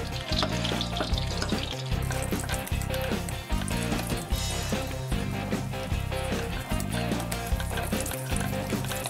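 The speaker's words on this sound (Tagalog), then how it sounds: "tayo ay maglalagay na ng bawang. Haluin hanggang mag-brown." Garlic sautés loudly in hot oil until brown, a dense close sizzle with rhythmic stirring scrapes repeating every second or so, cooking for a Filipino pakbet vegetable dish with no speech.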